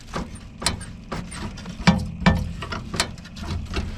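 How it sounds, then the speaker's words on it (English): Fuel pump running on a 50-plus-year-old excavator: a steady mechanical ticking and whirring with repeated clicks, close by and fairly quiet, with no talk. "So here's the switch for the fuel pump. Okay, we can hear it."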